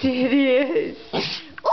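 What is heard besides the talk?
dog sneezing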